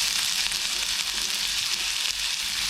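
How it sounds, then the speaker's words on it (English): Onions hitting hot oil in a pan for a blue cheese smash burger, producing a loud, dense, continuous sizzle that holds steady and close throughout. "So now our pan's nice and hot, we want to get our onions straight in."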